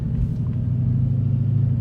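A Scat Pack car's engine runs in a loud, deep, steady rumble close by, with no voices over it.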